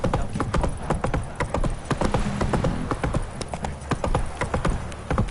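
Geralt's horse Roach clip-clops in The Witcher 3, a brisk, even run of close, crisp hoof strikes that carries on alone for several seconds.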